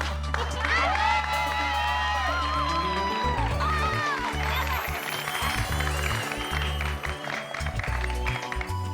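In a Hindi TV sitcom scene, a crowd cheers and claps loudly for the Bhide family, mixed with a blaring, bass-heavy musical score that runs the whole time.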